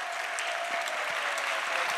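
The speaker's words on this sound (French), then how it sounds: "Clap for Jesus." Congregation in a church breaking into sustained applause for Jesus, a loud, dense and even roar of many clapping hands filling the whole stretch, with faint voices mixed underneath.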